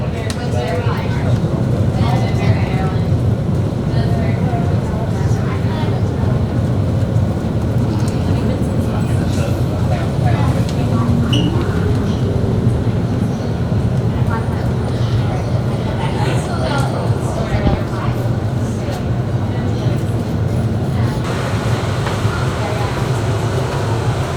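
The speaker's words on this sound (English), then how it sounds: "Please hold on. The train is approaching." A Miami-Dade MetroMover train rumbles loudly and continuously, with steady mechanical roar and faint clanks as it runs in toward a stop at a station.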